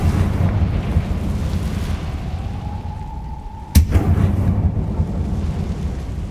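Confringo blasting-curse explosion in the Hogwarts Legacy video game: a sharp, loud blast cracks over a rumbling background of booming noise, followed by continued rumble.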